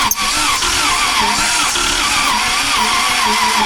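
A 1947 Cadillac woody wagon engine chugging while cranking, a close, loud uneven churning rhythm that keeps sputtering along without settling into a clean idle.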